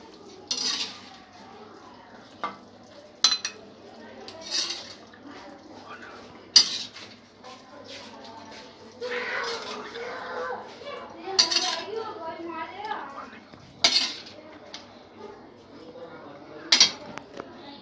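A spoon scrapes and clinks against a pan while cooked pumpkin sabzi is lifted out, with intermittent sharp metallic knocks and scraping between them and a voice talking in the background.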